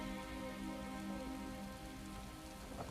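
Steady rain falls in The Elder Scrolls Online, a dense, even hiss of drops on surfaces that continues unbroken throughout, with no voices over it.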